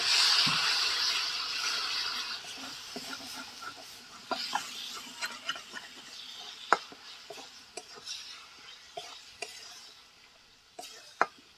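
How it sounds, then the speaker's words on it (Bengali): Ground spices with chopped tomato, salt and a little water being stirred in a pan for a chicken-skin curry, with scattered scraping clinks of a utensil over a soft sizzle. "গুঁড়ো মশলাগুলো যাতে পুড়ে না যায় ভালো করে মিশিয়ে নেব"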